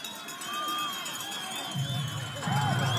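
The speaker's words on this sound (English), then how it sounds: "the Flyer crowd is going nuts" A high school football playoff crowd of Clyde Fliers fans roars at Huron in a sustained wash of cheering that swells louder near the end, with a commentator's voice running over it.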